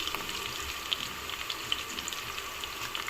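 Onions frying in hot oil with curry leaves, for a chicken pulao, crackle and sizzle steadily up close, with a few sharper pops scattered through.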